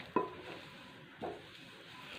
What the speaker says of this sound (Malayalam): ഇത് നല്ല ക്രിസ്പി ആകുന്ന വരെ ഇത് നമുക്ക് വറുത്തെടുക്കാം